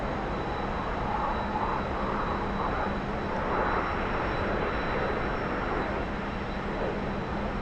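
Steady jet engine roar of a T-45 trainer in the DCS flight simulator, a continuous broadband drone with a faint high whine, constant loudness throughout with no talk.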